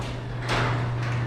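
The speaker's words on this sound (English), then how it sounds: "Here's the door closing now." A newly installed garage door closes on its electric opener, a steady mechanical rumble over a low motor hum, with a brief louder clatter partway through.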